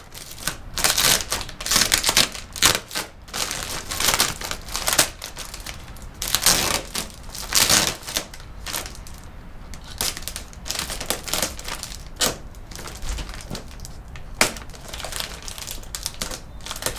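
Tape being pulled and ripped off the shipping box of a Hellcat engine block, a steady run of close crinkling, tearing and scraping bursts with sharp snaps scattered throughout.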